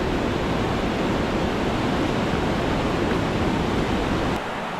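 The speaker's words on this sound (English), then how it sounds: "Oh, that water is moving, man." Close, loud rushing water from a mountain stream on a hike to a glacier lake, a dense steady roar with no voices that drops slightly just before the end.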